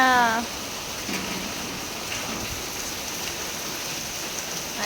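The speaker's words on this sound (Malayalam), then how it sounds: "അയ്യോ മഴ മഴ മഴ മഴ, ഭയങ്കര മഴ" Heavy rain pours down in a steady, dense hiss on surfaces outdoors, with a voice calling briefly at the start over the downpour.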